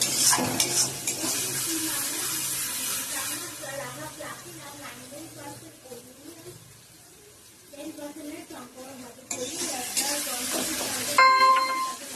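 A spiced dish with ground black pepper being sautéed in oil, loud hissing sizzle at the start and end with rhythmic stirring scrapes through the middle, a voice speaking underneath.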